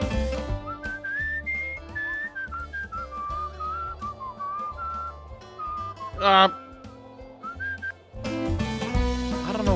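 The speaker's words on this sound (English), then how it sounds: "My computer is suddenly hating these whistle mechanics." Melodic whistling from the video game Where the Water Tastes Like Wine, a wavering tune of sustained notes over soft musical backing, with a brief voice and a sharp glitchy burst partway through.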